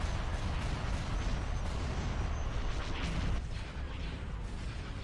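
Heavy bombardment of a space station in a Star Wars strategy game, with dense, continuous rumbling cannon fire and explosions forming a loud, steady wash that eases slightly toward the end, with no talk.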